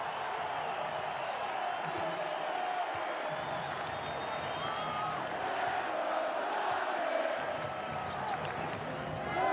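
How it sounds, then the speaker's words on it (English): A basketball arena crowd roars steadily at a Denver Nuggets game against the Boston Celtics, sustained distant cheering and whoops filling the space, with occasional ball bounces and a commentator's voice. "Listen to this crowd appreciating this effort"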